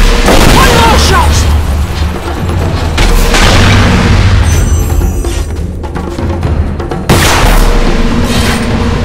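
Heavy booms and gunshots from the video game Lara Croft and the Temple of Osiris roll on almost continuously, loud and dense, with a brief drop near the seventh second before the blasts surge back. In-game voices sound among them.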